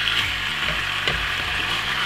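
Diced chicken pieces sizzle in a hot pan with softened onion for chop suey, a steady loud frying hiss with soft scraping as the mixture is stirred.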